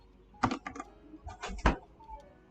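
Keys on a computer keyboard are pressed in two short bursts of crisp, close clicks, the last a firmer press like the Enter key, with quiet pauses between.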